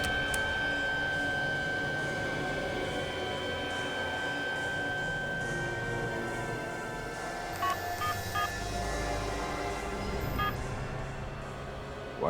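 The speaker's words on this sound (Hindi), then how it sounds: "इस सिम कार्ड को अपने मोबाइल में डालो और मेरे नंबर पे फोन करो" A mobile phone dials a number with a series of DTMF keypad tones, short beeps in quick succession, heard over a steady background bed of dramatic music and ambience.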